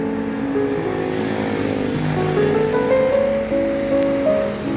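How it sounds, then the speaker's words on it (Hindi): A continuous road traffic wash from passing vehicles beside a plant nursery in Karachi, with engines droning steadily at moderate loudness and no talking. "रोड के किनारे ये नर्सरीज होती हैं, इसलिए हमें ट्रैफिक का शोर भी साथ साथ सुनाई दे रहा होता है"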